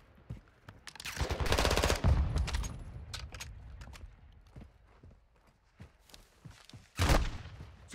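Video game gunfire in bursts: a loud rattling volley early on, scattered sharp single shots through the middle, and another heavy burst near the end, with quiet gaps between.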